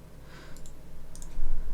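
Mouse clicks while adding a file browser applet to a Fedora Linux desktop panel: two or three quick, light clicks in a quiet room, close and crisp, no speech.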